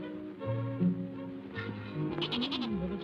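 A goat bleats in a warm farmyard scene, a few wavering calls close by over music, with one sharper quavering bleat near the end.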